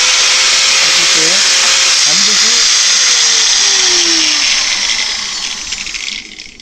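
An angle grinder fitted with a sanding flap disc works down a weld bead, a loud close high-pitched grinding whine that changes pitch under load, then fades as the tool winds down, with someone speaking over it.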